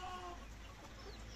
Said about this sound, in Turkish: Tavuk